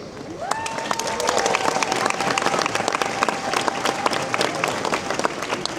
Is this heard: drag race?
no